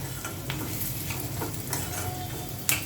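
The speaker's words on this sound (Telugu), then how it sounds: "ఇప్పుడైతే ఇలా కొంచెం ఒక 5 నిమిషాలు అయితే ఇలా పప్పు వేగనివ్వాలన్నమాట." Dal lentils fry in a pan with a soft continuous sizzle, while a spoon stirs and scrapes through them in a few close, irregular strokes.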